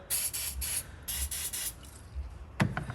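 Several short hissing bursts of WD-40 sprayed onto a carbon-fouled cylinder head in a Chevrolet Cruze, coming in quick clusters close by, then a brief wiping rub at the end.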